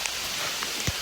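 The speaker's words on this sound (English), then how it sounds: "It's raining." Steady rain falls on a hiking trail, a soft continuous hiss with a few louder drops close by, and no talking.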